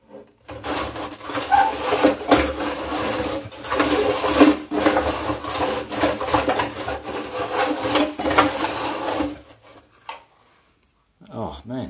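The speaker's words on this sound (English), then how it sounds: "Well, the floor scraper turns." On a wood gasifier, a floor scraper turns with a dry, gritty scraping and rasping that repeats irregularly for about nine seconds before stopping abruptly, followed by near silence.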